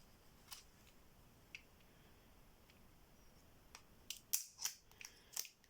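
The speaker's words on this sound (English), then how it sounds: "Just these scissors." Several quiet snips from scissors, scattered at first, then a quicker cluster of sharp cuts near the end, close by in a quiet room.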